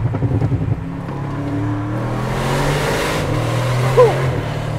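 An Audi RS sports car engine rumbles steadily, rising in pitch as it accelerates, with a brief whine near the end.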